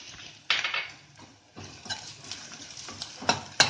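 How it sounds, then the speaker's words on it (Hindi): Garlic ginger paste, cumin and coriander powder frying with browned onions in a pan, a loud sizzle bursting up as ingredients go in, with stirring scrapes and faint utensil clinks. "अब इसमें डाल देंगे लहसुन अदरक का पेस्ट और इसमें डाल देंगे जीरा और धनिया पाउडर"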